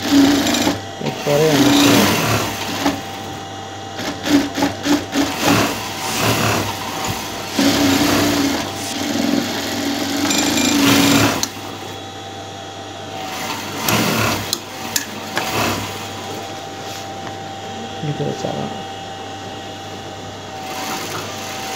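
A sewing machine stitches a shirt sleeve joint, its steady mechanical whir running in long bursts with pauses between, close and fairly loud, while someone talks over it in places.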